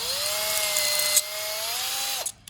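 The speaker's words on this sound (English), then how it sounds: "You're gonna have to drill this stuff with like a 3/32 bit." A power drill with a 3/32 bit whines steadily through craft material, a sustained high-pitched motor tone holding close and loud, then winding down abruptly at the end.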